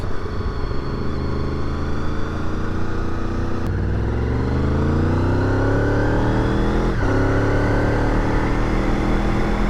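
A 2000 Honda VFR800 V4 motorcycle engine drones steadily while riding, its pitch rising and falling through the gears, with constant wind rush mixed in.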